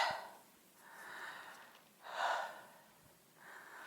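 Several breathy sniffs and snorts through the nose while climbing on a mountain hike, repeating every second or so, close and fairly soft.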